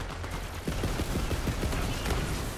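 Rapid bursts of explosive popping as IEDs shoot out in Borderlands 3, a dense crackling volley of small blasts over a steady loud game background with no talk.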